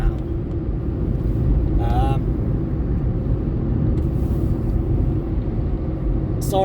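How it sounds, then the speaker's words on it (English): A car drives along a road to work, its engine and tyre rumble a loud, steady low drone from inside the cabin, with a couple of short faint clicks over it. "this is the road, and I'm driving to my work now"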